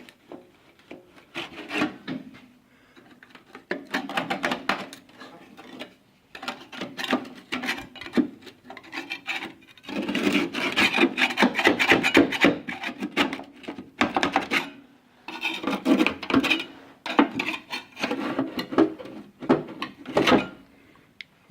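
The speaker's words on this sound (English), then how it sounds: "Now I'm going to just use this little scraper to try to pull that up." A small hand scraper prying and scraping up old wooden deck boards, with close, loud, rough rasping strokes in irregular bursts and brief pauses, no talking.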